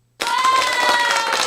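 A sudden burst of crowd cheering and applause kicks in after a brief silence, loud and sustained, with a bright tonal hiss running through it.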